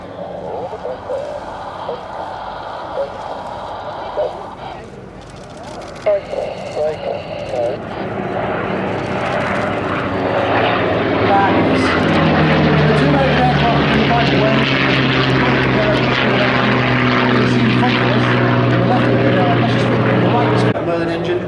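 Four piston warbirds, a P-47 Thunderbolt, P-51 Mustang with Merlin engine, Spitfire and Buchon '109', break in formation at an airshow, their propeller engines swelling from a distant drone to a loud, sustained roar overhead, with a voice talking over the early part.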